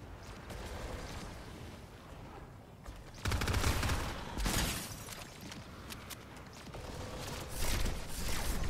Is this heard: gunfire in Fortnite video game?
yes